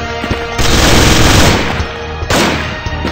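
Chain gun fired in the 2D shooter Gun Mayhem, a loud dense burst of rapid gunfire that roars for about two seconds, cuts off, then starts again briefly.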